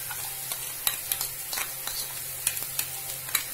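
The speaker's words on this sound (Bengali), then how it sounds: "এবার আমি এর মধ্যে রসুন কুচুনোটা দিয়ে দিচ্ছি।" Chopped garlic frying in a pan, a steady low sizzle broken by regular scraping clicks of a stirring utensil, close and fairly quiet with no talk.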